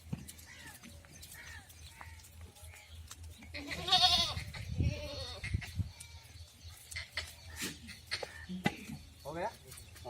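Goats bleat at a goat farm in Ajmer, Rajasthan, with several scattered calls rising over a quiet background, one louder bleat near the middle, and people talking faintly around them.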